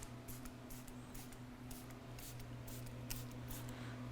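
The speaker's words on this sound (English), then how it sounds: "This is CarPro's new sprayer, which I've been wanting to test out." A CarPro trigger sprayer mists Eraser panel-prep spray onto a BMW E92 M3 in a series of short, quiet spritzes, evenly spaced, over a steady low hum of background noise.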